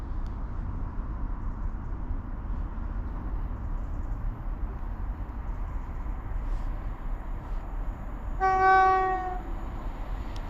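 A Class 60 diesel locomotive passes a station platform on the line between Shrewsbury and Acton Bridge, a steady low rumble throughout, with a brief horn-like tonal blast near the end.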